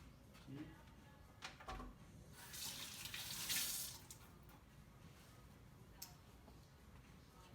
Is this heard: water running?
yes